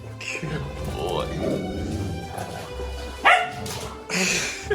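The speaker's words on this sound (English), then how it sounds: "Kobe does these playful growls" A golden retriever named Kobe makes playful growls and short yips close by, in uneven bursts, while people talk over the sounds.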